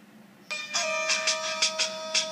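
An iPhone 5 running iOS 7 rings for an incoming call, a clear electronic chime with bright repeated bell-like tones over a sustained note, heard close and alone.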